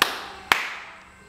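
Two sharp, isolated hand claps about half a second apart during a children's song, each a crisp, close smack followed by a short decaying room tail.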